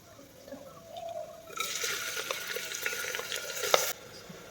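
A large spatula stirs food in a hot pan while it spatters and pops, a loud crackling sizzle that rises sharply partway through and then cuts off, with one sharp pop near the end.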